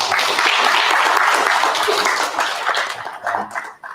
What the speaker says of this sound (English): So a big hand of applause for Dr.